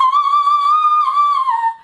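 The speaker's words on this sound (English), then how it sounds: "So there's the whistle register, as demonstrated" A singer sings a sustained whistle-register note, a piercing, pure high tone that holds steady with slight wavering before gliding down and cutting off after about two seconds, loud and alone.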